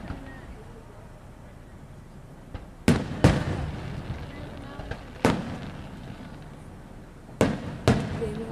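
Fourth of July fireworks in Austintown, Ohio, several sharp booming bursts at uneven intervals, some in quick pairs, heard from a moderate distance over a steady outdoor background.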